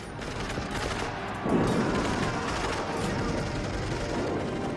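Dense, continuous gunfire crackles throughout, with a heavier burst near the middle, like a distant battle with many weapons firing at once.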